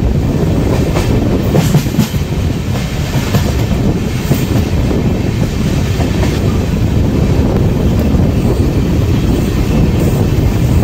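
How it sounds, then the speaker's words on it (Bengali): The Kolkata Sairang Express rumbles loud and continuous as it enters Krishnanagar City Junction, with a dense roar of wheels and rhythmic rail clatter throughout and no voices. "আমাদের ট্রেন এখন এন্ট্রি নিচ্ছে তার সেকেন্ড কৃষ্ণনগর সিটি জংশনে"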